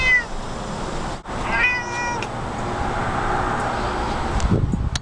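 A pet cat meows at its resting spot, a few clear drawn-out meows early on with a softer one later, close by against light outdoor background noise and no speech.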